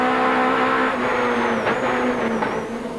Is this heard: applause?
no